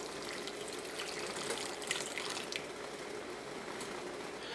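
Hot water with dissolved instant coffee is poured into a chocolate mud cake mixture, giving a steady, soft, continuous splashing gush of liquid with faint clinks, and no talking.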